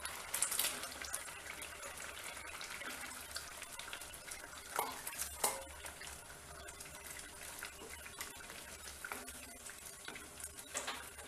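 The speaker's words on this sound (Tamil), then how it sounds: "இப்போ பன்னீரை போட்டுருவோம்" Paneer goes into a simmering curry gravy with coriander in a pan: faint bubbling and soft sizzle with occasional light clinks and scrapes of stirring, quiet and close, with no voices.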